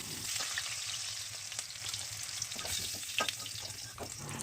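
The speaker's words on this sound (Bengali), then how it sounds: "লাল করে ভেজে তুলে নেব।" Salted, food-coloured potato cubes frying in hot oil for chicken biryani, a soft continuous sizzle with occasional stirring scrapes, close and quiet, no voices.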